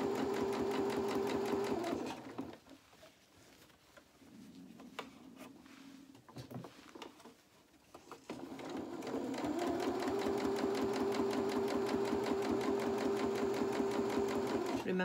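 A sewing machine runs in fast, rhythmic bursts while stitching a seam on small boxer shorts, stopping briefly in the middle for quieter handling noises, then resuming at a steady, even pace.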